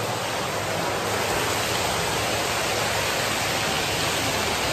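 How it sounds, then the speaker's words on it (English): A high-pressure water jet churning in a spa jacuzzi in Seville, a loud, steady hiss and rush of water that stays constant from start to finish. "This one here, the water comes out with a lot of pressure"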